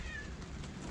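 A cat meows once inside a greenhouse, a short, faint call over a steady low background hum.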